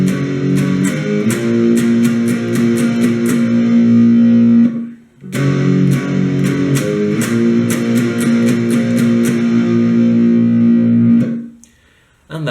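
Distorted electric guitar chugging through the verse, loud and steady palm-muted power chords in two phrases separated by a short pause, ending in silence.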